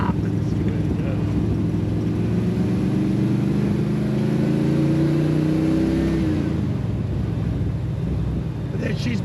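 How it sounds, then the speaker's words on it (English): Smooth-running car rumbling steadily from inside the cabin on a coastal drive through New Brunswick, engine note rising slightly and then easing off, with talk faintly underneath. "it's like driving a brand new car"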